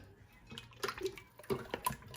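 Liquid is poured during the making of Moroccan black beldi soap, giving a few soft, brief splashing and trickling sounds close by in a quiet room.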